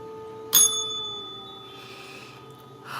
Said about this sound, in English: I heard ring the bell